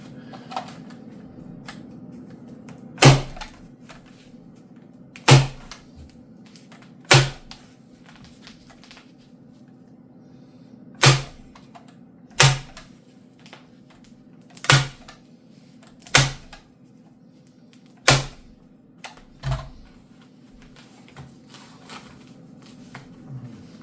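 A staple gun driving staples through fabric into an RV window valance, about nine sharp, loud snapping shots spaced a couple of seconds apart over a low steady hum.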